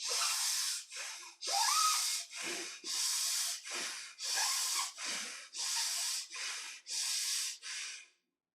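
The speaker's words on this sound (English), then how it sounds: "Expand the belly while inhaling and contract and squeeze while exhaling." Deep belly breathing exercise with long inhales expanding the belly and squeezing exhales, heard as about a dozen close, forceful breaths in a steady rhythm, each a loud airy rush separated by brief pauses.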